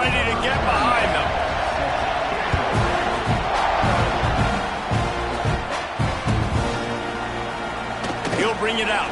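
Large stadium crowd at a Texas A&M college football game roars steadily just before kickoff, a dense continuous wash of cheering and shouting with scattered thumps and claps, loud and sustained throughout.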